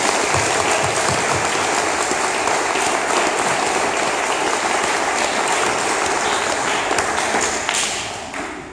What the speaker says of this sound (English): I would just like to give each one of them a huge round of applause